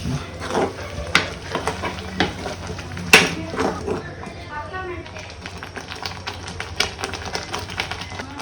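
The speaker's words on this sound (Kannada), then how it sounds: "ಫ್ರೈ ಮಾಡಿ ಒಂದು 2 ಮಿನಿಟ್ಸ್ ಫ್ರೈ ಮಾಡ್ಕೊಳ್ಳಿ." Food fries in a pan in a home kitchen, a low sizzle under sharp clicks and clatters of a utensil against the pan, while a person talks throughout.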